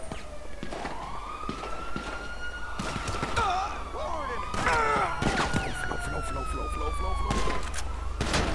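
A police car siren in Grand Theft Auto V wails and sweeps up and down, fairly near, over a busy backdrop with thuds and other game noise.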